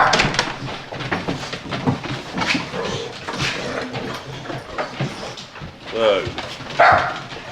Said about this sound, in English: We'll go in, say hello to the dogs.